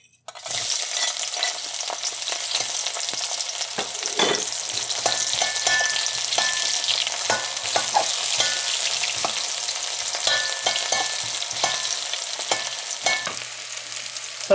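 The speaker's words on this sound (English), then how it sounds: "Adding some oil to our hot karahi now. Adding to our onions." Onions frying in hot oil in a karahi give off a steady, loud sizzle that lasts throughout, broken by a few brief scrapes and clinks of stirring, with no talking.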